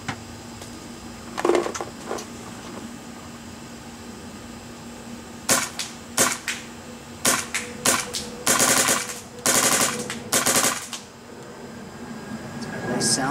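An Axe paintball marker fitted with a Redline and Lurker bolt fires a few single shots, then quick bursts of sharp pops, fairly close, with a faint hum underneath.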